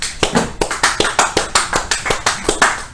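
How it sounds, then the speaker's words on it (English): Rhythmic, evenly spaced handclaps on a sports talk show, close and crisp, about four claps per second, steady throughout. "Round of applause."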